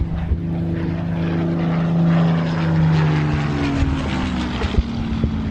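Spitfire Mark 16, its Packard-built Rolls-Royce Merlin 66 or 266 piston engine droning steadily and loud at an airshow, with a strong low harmonic hum that swells slightly and wavers as the fighter passes, no voices over it.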